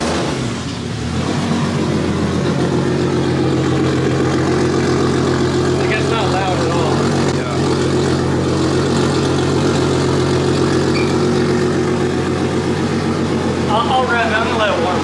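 A 2JZ-swapped car with a big turbo, rated over 600 horsepower, idles with a steady low, smooth hum beneath ongoing talk.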